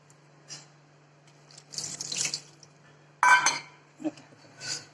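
Water drained off soaked soybean chunks in a kitchen, heard as a few short splashing, pouring bursts separated by quiet gaps, over a faint steady hum, with no talking.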